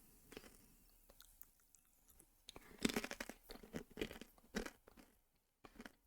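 Snacks being crunched and chewed close up, with irregular bursts of crisp biting and mastication that build to louder crunches in the middle before a short pause and a final few bites; no talking.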